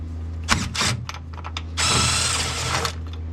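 A power tool with a 13mm socket removing an upper retaining bracket on a Ford truck, whirring in short bursts and then one longer sustained run, loud and close over a low background hum.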